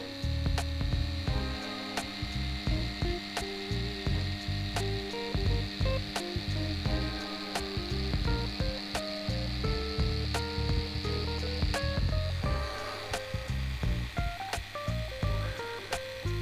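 An adjustable tattoo pen runs continuously while lining on practice skin, a close steady mechanical buzz with a regular pulsing rhythm that shifts pitch slightly as it works.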